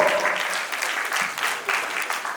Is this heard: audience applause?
yes